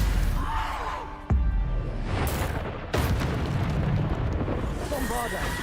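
Bombarda spell explosions from the video game Hogwarts Legacy: a loud booming blast, then a second sharp burst about halfway through, both over a dense layer of game sound effects and continuous talk.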